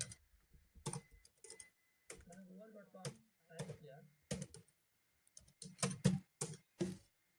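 Someone types google.com on a computer keyboard, with bursts of quick, close key clicks separated by short pauses, while someone speaks between and over the typing.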